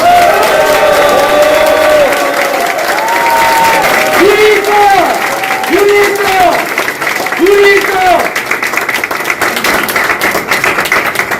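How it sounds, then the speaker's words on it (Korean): Crowd applause at an election campaign rally for a Gangseo district head by-election, steady clapping and some cheering filling the whole stretch, loud and close, with a voice over a PA system speaking through it. "우리 공동선대위원장을 맡아주신 13분의 다른 후보분들에게 뜨거운 박수 부탁드리겠습니다"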